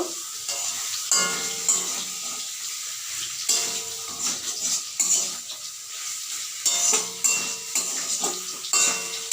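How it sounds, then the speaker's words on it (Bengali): Fried pointed gourd pieces are stirred into a poppy-seed spice paste in a hot pan, with steady sizzling and frying under repeated scraping strokes of a spatula against the metal, close and continuous with no talk. "এবার এর মধ্যে দিয়ে দেবো ভেজে রাখা পটলগুলো দিয়ে মশলাটাকে ভালো করে পটলের সঙ্গে একটু মিশিয়ে নেব"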